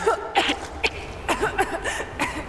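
Lara Croft coughing in Rise of the Tomb Raider's Baba Yaga hallucination sequence, a series of short, breathy hacking coughs spread across a couple of seconds at moderate volume, with no talking over them.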